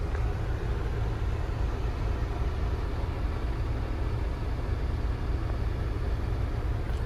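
A van idles and pulls away behind another vehicle at a barrier in hot summer weather, a steady broadband engine and road rumble heard from inside the cab with no speech.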